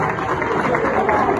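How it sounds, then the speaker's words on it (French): A crowd applauds at a charity event at a school in Kinshasa, a dense, loud, continuous wash of clapping filling the whole moment, with voices mixed into the noise. "Est-ce qu'on peut applaudir pour elle"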